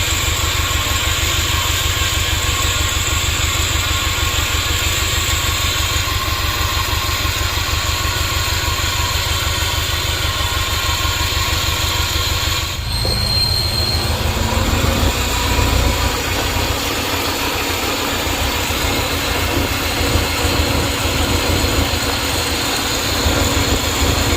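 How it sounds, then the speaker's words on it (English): A Subaru WRX STI engine runs steadily with worn, noisy pulley bearings adding a constant whine and rumble, loud and close throughout, with a brief clunk midway as the drone shifts slightly. "Subaru WRX Di. Annoying Pulley bearings."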